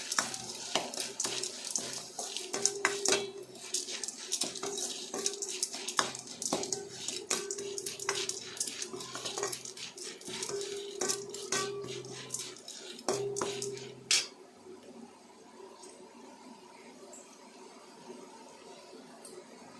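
A spoon stirs and scrapes tamarind rice in a metal vessel, giving steady rhythmic clinks and scraping at close range for most of the stretch, then easing into quieter handling near the end.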